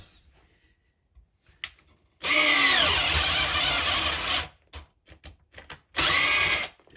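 A cheap Cjrelectrical cordless drill bores into timber in two loud, whirring bursts, the first lasting about two seconds and the second shorter, with quiet gaps and small knocks between them.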